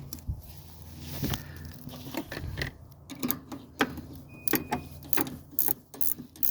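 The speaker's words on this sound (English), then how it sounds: "we can start screwing these nuts back down" A wrench ratchets nuts back down onto the rear suspension of a 1981 Mercedes 300SD, with shocks and bushings, giving a series of close, irregular metallic clicks and clanks.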